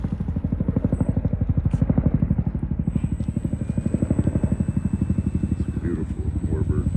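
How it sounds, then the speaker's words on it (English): A P-40 warbird comes in with a close, loud, steadily pulsing engine drone whose rapid, even beat holds throughout. "P40 coming in."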